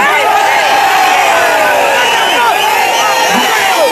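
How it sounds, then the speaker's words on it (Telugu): A crowd of agitated farmers at a protest shout loudly together, a dense, continuous roar of many voices with overlapping cries throughout. "పాపం గట్టిగా అరుస్తున్నారు"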